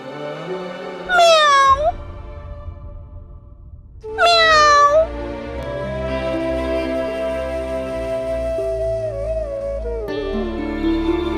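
Two loud, drawn-out cat meows a few seconds apart, followed by a softer sustained musical tone underneath.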